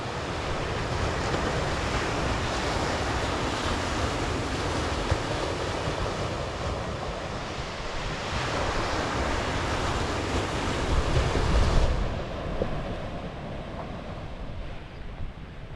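Sea waves wash steadily onto a beach on the Jurassic Coast beneath headlands, a continuous broad roar with gusting wind across the microphone, swelling louder near the end before easing off.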